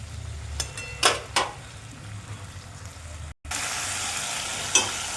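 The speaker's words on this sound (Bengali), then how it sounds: "টমেটোটা ভেজে নিয়েছি, একটু গোটা গোটা থাকবে" Tomatoes fry in hot oil in a pan for a tilapia fish dish. A soft hiss is broken by a few sharp utensil knocks and stirs, then a loud, steady sizzle swells up after a brief gap.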